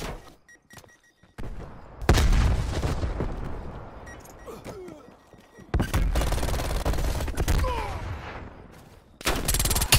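Call of Duty: Cold War match on Nuketown: loud bursts of rapid gunfire and a booming frag grenade blast, several dense volleys separated by brief lulls, close and intense.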